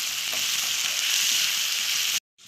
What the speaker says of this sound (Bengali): নুন, হলুদ আর লঙ্কার গুঁড়ো দিয়ে এটাকে কষাবো